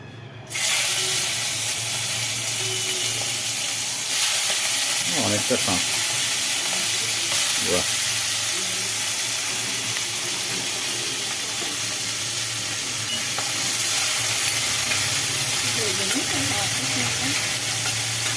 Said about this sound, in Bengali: কড়াই তেলও পড়লো একটা পদ তো হয়ে রয়েছে কি চিংড়ি মাছ ভাজা হবে